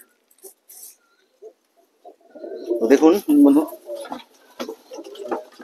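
Six healthy, restless pigeons coo in low, rolling phrases, loudest in a burst around the middle, close by, with someone talking over and between the calls.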